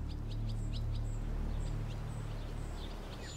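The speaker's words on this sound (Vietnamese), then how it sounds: "Và thời điểm này trong năm có rất nhiều loài chim." Several birds sing in a spring garden, with repeated high chirps and tweets scattered across the clip over a steady low background rumble, fairly near and moderately loud.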